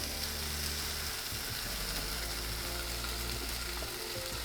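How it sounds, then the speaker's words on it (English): Cold cooked whole grain rice frying in a hot pan with grilled vegetables, a loud continuous sizzle up close with scraping and stirring running through it. "what I like to do is I like to fry my rice to give it a crunchiness"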